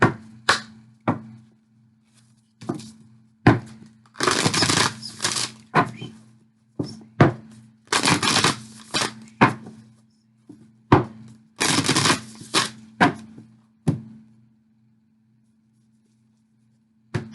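Paper advice cards being shuffled, several bursts of riffling and sharp card snaps in a quiet room, the flurries separated by single taps and pauses.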